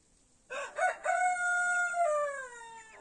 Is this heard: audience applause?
no